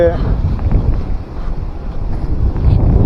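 Gusty, storm-like wind roars and buffets the microphone in a steady, loud rush during a heavy village downpour in summer heat.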